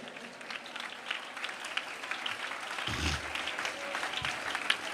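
A church congregation claps steadily through a Malayalam Christian prayer meeting, a dense, moderately distant patter with a few low thumps and faint voices underneath.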